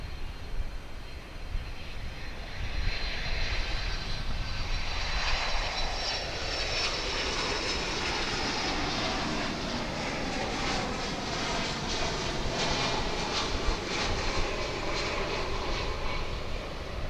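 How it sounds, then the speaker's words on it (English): Polar Air Cargo DHL cargo jet arriving from Cincinnati at DFW International Airport, its engine roar rising from a distance into a loud, sustained rumbling whine with sweeping tones as it passes, then holding steady. "It's our daily Polar Air Cargo DHL flight coming in from"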